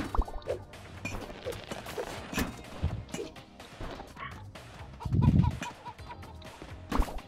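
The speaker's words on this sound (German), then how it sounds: "du kannst das Huhn noch gerne mitnehmen, was da gackert" A chicken clucks in the Moving Out video game, repeated short clucks scattered over several seconds amid clattering game effects and a louder thud-like crash midway, moderately near.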